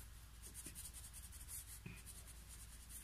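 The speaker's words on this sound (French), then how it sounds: "Ensuite, on va gommer." A pencil eraser scrubs across paper on a baboon drawing, giving soft, faint rubbing strokes in short repeated bursts with small taps between them in a quiet room.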